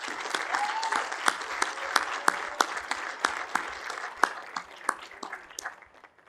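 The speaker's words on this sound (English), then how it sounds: "with a round of applause" Applause from a commencement audience at Cushing Academy, a steady wash of many hands clapping with sharp individual claps standing out, moderately loud and fading toward the end, with no talking.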